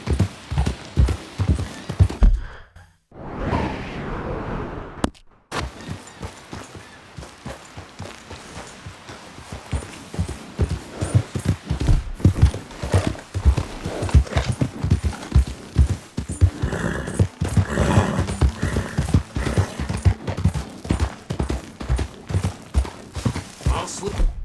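Horse hooves galloping in Red Dead Redemption 2, a rapid, rhythmic clip-clop of hoofbeats close by that carries on steadily, with a horse's whinny and a brief rushing break early on.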